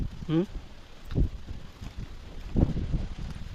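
Strong wind blowing over the water beside fishing boats, gusting buffets hitting the microphone in uneven surges, with a voice cutting in briefly near the start.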